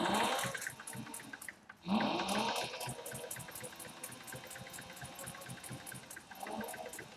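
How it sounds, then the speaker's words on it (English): A sewing machine runs fast, stitching canvas for a tote bag along an edge guide. The close, steady mechanical chatter is briefly interrupted by a louder bump and then resumes at an even pace. "I can sew a straight line pretty good, but I can sew a lot faster if it's going along this edge guide"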